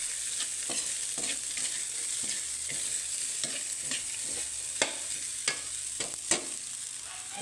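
Corn and mixed vegetables sautéing in a pan, a steady sizzle with repeated scrapes and clinks of a spoon stirring, close and moderately quiet, no talking.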